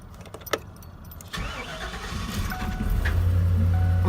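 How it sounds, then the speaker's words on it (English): A 2003 Chevy Silverado pickup with about 199,000 miles starts rough: a few clicks and a brief crank, then the engine catches and settles into a loud, uneven idle that builds and holds steady near the microphone. "It starts rough every time"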